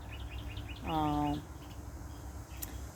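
A single short bird call rings out in a wild garden, a clear harmonic note near the start amid faint chirps and soft background hum, otherwise quiet.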